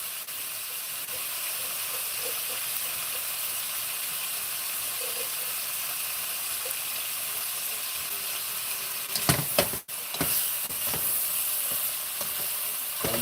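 Steady sizzling of chicken pieces cooking in a hot pot for Jamaican brown stew chicken, a continuous hiss with a few sharp clatters near the end.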